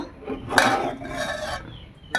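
Metal lid set onto a cooking pot while making chicken biryani and chicken kosha at home: two short clattering metallic scrapes, close and fairly loud, alone without talk.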